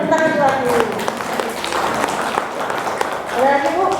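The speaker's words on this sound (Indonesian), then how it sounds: "Tepuk tangan lagi" Audience clapping at a parenting seminar, steady dense applause under continuing voices and a sung or drawn-out vocal line at start and end, moderately loud throughout.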